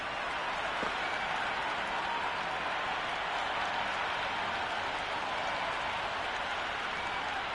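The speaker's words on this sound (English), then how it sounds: "already the crowd making a hell of a racket" A packed cricket stadium crowd roars and applauds before a World Cup semifinal between India and England, a steady dense wall of cheering and clapping that stays loud and unbroken throughout.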